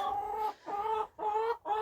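Silkie and Faverolles chickens cluck in their coop, close and clear, with a quick run of about four rhythmic, nasal clucks separated by brief pauses.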